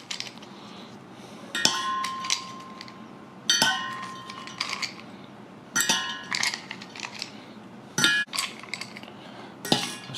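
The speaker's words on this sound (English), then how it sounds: "we'll just get a heap of our ice cubes into our mixer" Ice cubes dropped in handfuls into a metal cocktail shaker while making an espresso martini, a series of sharp clinking, rattling bursts at irregular intervals, close and loud.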